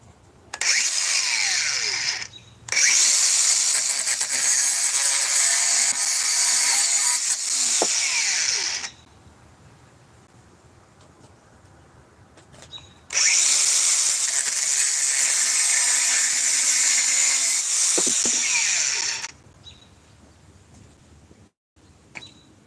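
A DeWalt grinder cuts through material in two long bursts of harsh, loud grinding, each several seconds long, with quieter pauses in between as the motor idles down.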